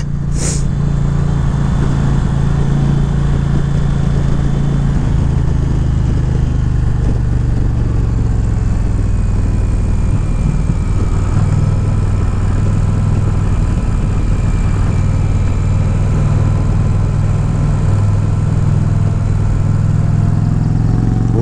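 Indian Challenger motorcycle engine droning steadily while riding, a loud continuous low rumble with wind noise that holds evenly throughout.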